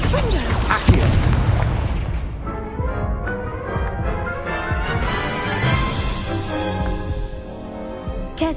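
Booming Confringo spell explosions in a Harry Potter video game, a loud blast near the start followed by crackling debris and low rumbling that fades over several seconds.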